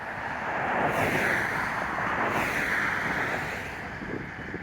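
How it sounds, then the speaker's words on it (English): Steady wind roars and buffets against the microphone outdoors at a home in Nashville, a broad rushing noise that swells and eases slightly, with no voices. "it is a windy day today"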